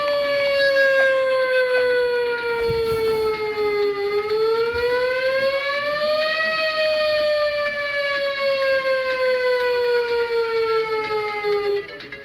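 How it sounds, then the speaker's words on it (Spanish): A seismic alarm siren sounds during an earthquake warning drill, a loud, continuous, harmonic wail that slowly falls, rises, then falls again over about twelve seconds. "Alarma sísmica."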